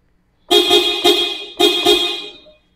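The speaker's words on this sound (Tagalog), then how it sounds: "pakinggan muna natin yung stock na busina" A Subaru Forester's stock car horn honks twice in close succession, loud and near, each blast a bright, steady tone that fades out.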